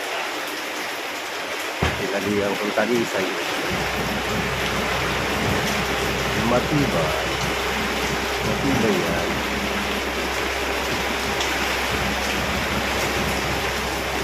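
Heavy rain falls steadily as a dense, continuous hiss, with some wind and a low rumble underneath, while people talk over it.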